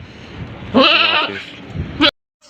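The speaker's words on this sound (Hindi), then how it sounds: "ये दो, एक बकरा एक बकरी है।" A goat at a livestock market gives one long, loud, quavering bleat close by, followed by a shorter sharp call that cuts off abruptly.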